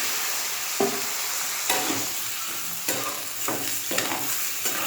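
A bean curry sizzles in a pan after water is poured in, making a bright, hissing fry noise that keeps going while a few sharp knocks and scrapes of a utensil land at intervals, close by.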